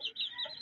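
A short, quiet burst of clucking from a chicken, a few quick throaty notes in under a second.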